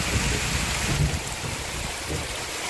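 Heavy rain pours steadily in a broad, even hiss with no pauses, falling on a muddy site in the Central Highlands where acacia wood is being loaded late in the afternoon.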